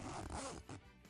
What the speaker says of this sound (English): I pulled on the zipper in her bag